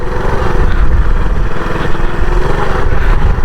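A motorcycle engine runs with a loud, steady, close drone as the bike is walked along a rough, damaged bypass road, with no voices over it.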